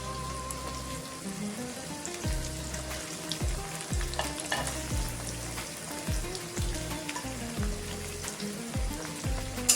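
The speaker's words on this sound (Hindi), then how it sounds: "फ्राई कर लेंगे प्याज लहसुन को।" Onion, garlic and ginger sizzling steadily in a hot pan with oil, a dense crackling hiss broken by occasional stirring scrapes, close and without talk.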